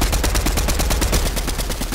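Sustained rapid gunfire in a first-person shooter video game, a dense automatic burst of shots firing continuously and loudly for the whole stretch with no pauses or talk.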